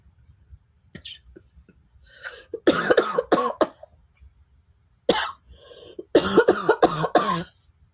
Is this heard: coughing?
yes